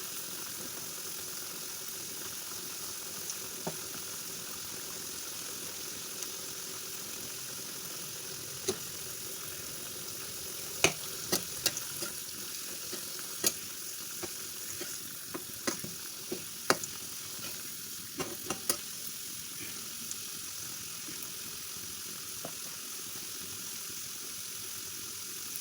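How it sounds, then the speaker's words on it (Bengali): Potatoes sizzle in a frying pan while a spatula turns them, leaving a continuous even hiss dotted with scattered clicks and scrapes that cluster in the middle stretch. "উল্টে পাল্টে দিচ্ছি।"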